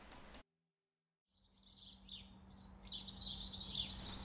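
Birds chirp in a backyard, with faint tweets at first that grow into a busier chorus of high calls over a steady low hum after a short silence. No one talks.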